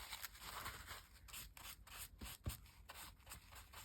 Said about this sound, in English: If you keep rubbing it, it just comes off.